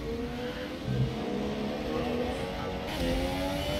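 F1 race cars in the F1 2017 video game at the Baku street circuit, with sustained high-pitched engine whine and revving, continuous and fairly loud, under a commentator's voice.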